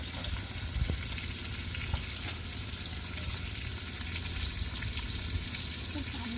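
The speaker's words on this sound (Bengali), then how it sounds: "তো চলো মাছটা ভেজে নিই" Fish sizzling steadily in a hot pan, a close, continuous frying hiss with occasional faint pops and stirring sounds.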